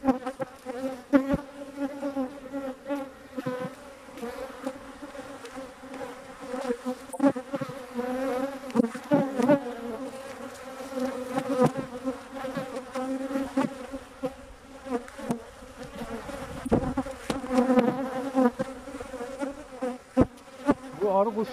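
Honeybees buzz steadily around an open hive during a colony inspection, a dense, close droning hum that swells and fades throughout with no talking.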